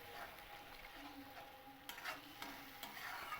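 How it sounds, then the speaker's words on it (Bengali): Ground spice paste frying and being stirred for a Bengali katla fish curry, a soft steady sizzle with periodic scraping stir strokes, fairly quiet and close, with no talking. "এই মশলাটাকে আমি একটু খুব ভালো করে একটু কষিয়ে নেব।"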